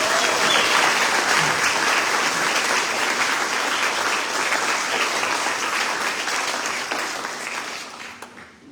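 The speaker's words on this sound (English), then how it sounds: "we have one more round of applause for all of the healthcare angels." Audience at a healthcare awards ceremony applauding honorees, a loud, dense round of clapping from a large crowd that holds steady and then tapers off near the end.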